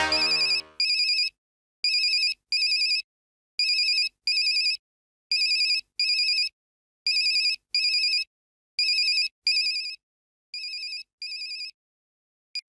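A mobile phone left behind rings alone in a quiet room, its electronic ringtone sounding in short repeated pairs of bright bursts with brief silences between, continuing for several cycles and fading slightly near the end.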